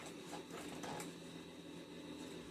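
A sewing machine stitches a zipper tab at a half-inch seam, running as a steady, fast mechanical whir and rattle throughout, close but fairly quiet, with no talking.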